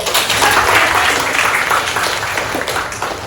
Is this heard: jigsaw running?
no